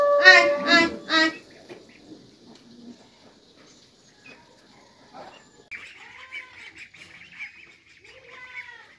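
Ducks quacking at feeding time in a village, a loud burst of harsh quacks at the start followed by quieter scattered calls and faint chatter-like bird sounds.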